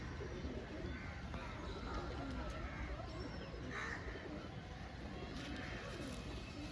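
Pigeons at a bustling bird market coo softly amid a dense, steady crowd hubbub, the low calls faint and partly buried under surrounding chatter and noise.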